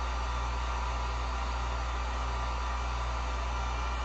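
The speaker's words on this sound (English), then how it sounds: "just lightly hit this with the heat gun" A heat gun blows steadily on acrylic paint, a constant close airy roar with a low hum underneath, unbroken for the whole stretch.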